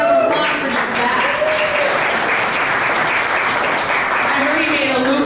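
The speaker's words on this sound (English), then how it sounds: "He deserves a round of applause for just that." Steady, loud applause fills a room at a legislative recap gathering, honoring a lawmaker, with a few voices faintly audible at the start and end.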